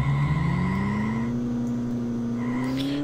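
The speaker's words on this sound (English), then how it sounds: "You can hear this has very different engine." A Lola Buick race car engine in the Amiga game Indianapolis 500 drones steadily at fairly low revs. Its tone climbs slowly and evenly over a few seconds, with a faint thin whine layered above it.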